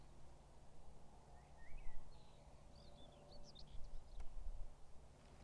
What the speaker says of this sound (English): Chaffinch there on the wires making that noise.